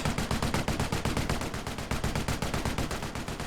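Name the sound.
machine gun fire in video game Company of Heroes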